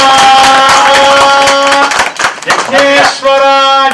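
Temple havan crowd claps in a fast, steady patter, close and loud, while a sustained chanting voice with ringing tones carries over the top and briefly dips before resuming.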